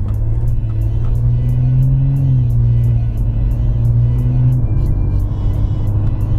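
Infiniti Q50 engine and exhaust with the muffler deleted, a steady loud low drone with a rising then falling pitch as the revs change, heard continuously from inside the car.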